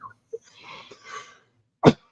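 A few faint breathy sounds lead up to one sharp, sudden sneeze burst near the end, loud against quiet surroundings.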